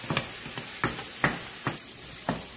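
Onion frying in oil in a pan for Chinese fried rice with shrimp, giving a soft, steady sizzle broken by several sharp scraping or stirring clacks at uneven intervals, heard up close with no talking.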